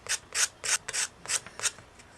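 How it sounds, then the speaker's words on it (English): A nail file rubbed over the edges of chipboard die cuts, six or seven short, quiet rasping strokes in a steady back-and-forth rhythm, close up and alone. "on these larger pieces, I can use this nail file"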